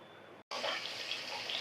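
Tap water runs steadily over freshly cut vegetables being washed in a sink, a close, continuous splashing stream broken by one brief silent gap near the start.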